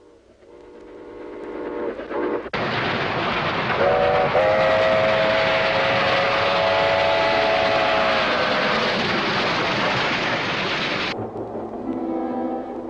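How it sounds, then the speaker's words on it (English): A train travels along the rails with a sustained whistle blowing for several seconds over the loud rumble and clatter of the cars, the roar swelling in and then dropping away toward the end. "we were on the train heading back to Arkansas"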